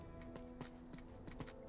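Clip-clopping horse hooves in the video game Uncharted 2, several evenly spaced strikes at a trotting pace over a faint, steady tonal hum.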